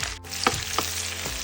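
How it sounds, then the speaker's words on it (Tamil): Finely chopped garlic sizzles in hot oil in a pan for a restaurant-style dal masala, a steady bright crackle with a few sharp stirring clicks, close and alone. "பொடியாக நறுக்கின பூண்டை சேர்த்துட்டு நம்ம அழகாக அதை வதக்கணும்."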